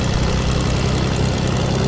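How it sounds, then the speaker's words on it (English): A plane engine in the Fortnite video game, a damaged aircraft, drones as a steady low, dense rumble with broadband noise, constant and loud throughout without any talk. "Dude, this plane is at 18 health."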